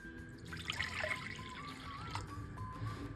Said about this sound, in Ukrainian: В мисці з'єднуємо воду нагріту до теплого стану не вище 30 градусів.